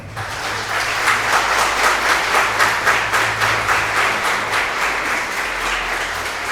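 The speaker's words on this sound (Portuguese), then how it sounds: "vamos dar uma salva de palmas" Church congregation gives a loud, sustained round of applause at a thanksgiving service marking a Baptist church's ninth anniversary in Brumadinho, with steady dense clapping throughout and a low hum underneath.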